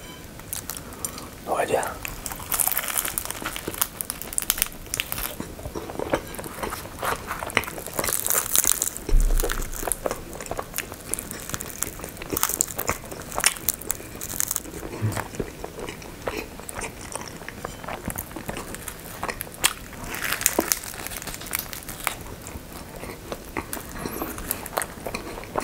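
Cheburek pastry filled with Nutella and bananas is bitten and chewed close to the microphone, with soft crunches, crinkly pastry sounds and wet chewing through most of the stretch.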